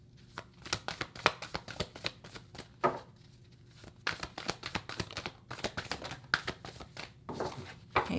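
Tarot cards are shuffled by hand in quick repeated riffling bursts, crisp papery slaps and flutters in fast rhythm with short gaps between runs, close and clear with no voice.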